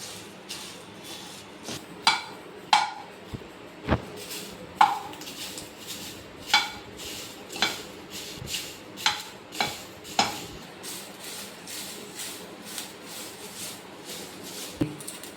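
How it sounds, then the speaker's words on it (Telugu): Curry leaves roast in a pan while a spoon stirs them in regular scraping strokes, roughly one every second, over a faint steady sizzle. "వేగేంత వరకు ఇలా కలుపుతూ ఉండాలి మాడిపోకుండా ఇలా కలపెడుతూ ఉండాలి"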